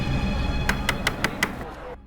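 Five sharp knocks strike a door in an even, quick rhythm, loud and close, over a busy background murmur in a tense police-drama scene.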